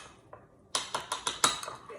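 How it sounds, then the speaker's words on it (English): A metal spoon stirs a raw nut taco mixture in a bowl, clinking against the sides about six times in a quick, fairly even rhythm after a single faint tap. "Let me grab a spoon real quick so I can stir this up"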